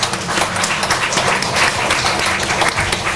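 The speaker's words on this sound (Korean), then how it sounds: "자, 하나님께 영광의 박수 올려드리겠습니다" Church congregation applauding during a Korean worship service for a dedication celebration, steady dense clapping from a crowd that fills the room, sustained at even loudness throughout with faint voices underneath.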